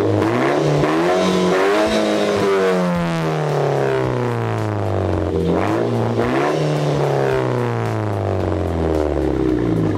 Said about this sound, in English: take a listen how the exhaust sounds